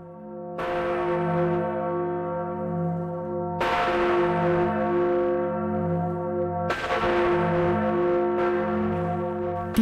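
Massive 8.5-tonne church bell in the Katzenturm tower ringing up close, three heavy strikes with long, rich humming decays that overlap and swell, with no voices.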